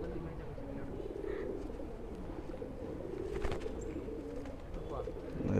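A large pigeon coos softly and repeatedly among other birds in a steady, noisy outdoor background, with a voice talking faintly underneath.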